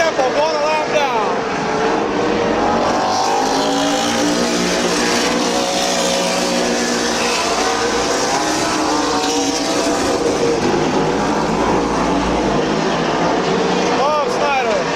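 Race cars roar around the Midvale Speedway oval, a loud continuous wall of engine noise with rising and falling whines as cars pass, under an announcer's steady commentary.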